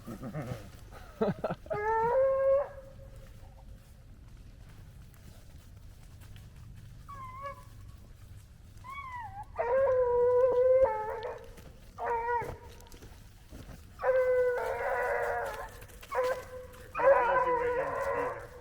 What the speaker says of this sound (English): Such a dramatic bark.